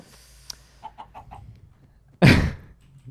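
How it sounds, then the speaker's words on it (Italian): Minecraft chicken clucking: four short, evenly spaced clucks, followed by a much louder, brief rushing burst near the end, all against a quiet background. "Sento il rumore di un pollo."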